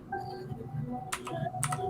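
Quick bursts of computer keyboard typing, a couple of clustered key clatters against a low background murmur of a room, fairly close and moderately loud.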